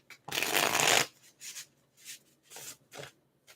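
Tarot cards with thin cardstock are shuffled close up, first in one long riffling rush and then in several shorter papery bursts.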